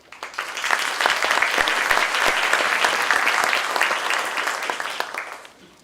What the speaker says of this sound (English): Let's give a round of applause to you and all the imams here.